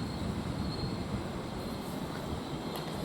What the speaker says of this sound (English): Squeaky brakes is going to stop.